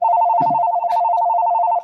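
A telephone bell rings loudly and steadily in a close, continuous trill, with a brief muffled bump partway through.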